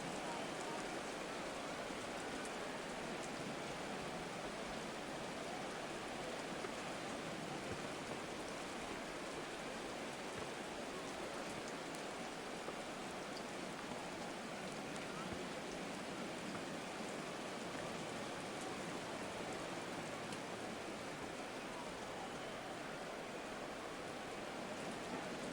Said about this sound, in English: Forecast calling for more of the same. The rain set to continue as we are underway